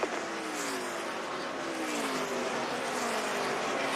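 A NASCAR Cup Series race car at Phoenix during the 2007 Checker Auto Parts 500 gives a loud, steady engine roar. Its high whine holds a constant pitch and shifts slightly as the car runs flat out.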